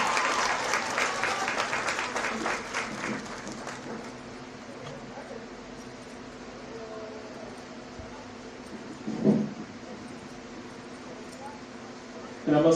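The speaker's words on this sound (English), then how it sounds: "So another round of applause for all of our" Applause from a school recognition ceremony audience for 8th graders fades out within a few seconds. A speaker then talks over a quiet room.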